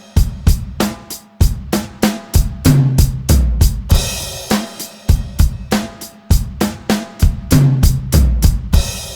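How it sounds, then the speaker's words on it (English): A drum fill cycling high tom, bass drum, low tom, bass drum, repeated several times with steady, punchy hits and cymbal crashes marking phrase starts, close and loud with no voices. "we're going to go high tom, foot, low tom, foot"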